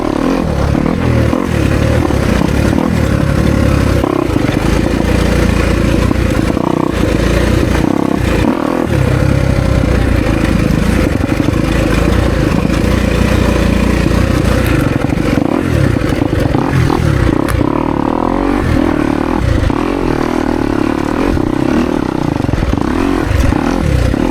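Dirt bike engine droning steadily while riding a trail, with continuous revving and throttle changes, clattering and scraping from the terrain, loud and close throughout with no talk.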